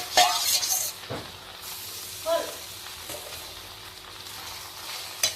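Duck meat dropped into a hot pan with raw ginger and garlic, a burst of sizzling at the start, then a steady low frying hiss with occasional stirring scrapes, close by.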